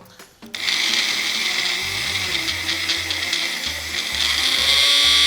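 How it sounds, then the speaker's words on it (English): A small kitchen blender whirs steadily as it blends plant-based recipe ingredients, loud and close, its motor pitch shifting as the contents churn, with faint voices nearby. "You just put it in the blender and then you're done."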